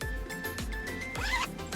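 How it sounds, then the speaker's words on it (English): A zipper is pulled shut along a garment bag holding a finished knitted yarn piece, giving several quick rasping strokes close by with no talking. "zip it up"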